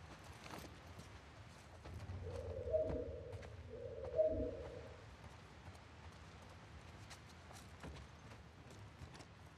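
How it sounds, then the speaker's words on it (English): Pigeons cooing in The Last of Us Part 2 on PS5, two soft low coos in close succession over quiet ambient game background. "Oh, the freaking pigeons again. They scare me. They make weird noises."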